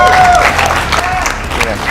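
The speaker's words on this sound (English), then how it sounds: "Give him a round of applause, guys." Crowd applause and cheering at a Street Fighter V tournament match, a steady wash of clapping with shouts rising over it for the whole stretch, loud and close.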